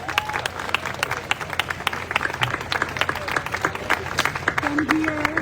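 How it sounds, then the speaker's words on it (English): Audience applause for Eric Malsten at a Dominican Republic independence anniversary celebration, with many hands clapping steadily for several seconds under crowd murmur and scattered voices. "a round of applause to Eric"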